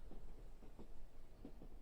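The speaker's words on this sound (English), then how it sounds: "You can barely hear the wheels clicking along the tracks" Faint rhythmic clicking of train wheels over rail joints on the Hope Valley Line, muffled under a low rumbling background of wind and motion.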